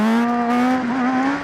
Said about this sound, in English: I'm going to try and pull a good first gear wheelie for you.